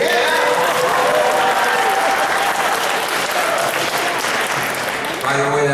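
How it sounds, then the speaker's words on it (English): Sustained audience applause fills a convention hall at Power Morphicon 2012, a dense, steady roar of clapping with crowd voices mixed in, briefly dipping near the end as a voice rises. "what about the applause for us who have come back?"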